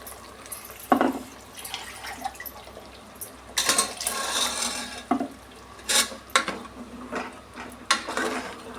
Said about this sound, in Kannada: ನಾನು ಜಾರ್ ತೊಳೆದು ನೀರು ಸೇರಿಸ್ಕೊತಾ ಇದ್ದೀನಿ.